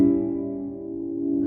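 One guitar chord strummed on a few strings rings out clearly and slowly decays, close and alone.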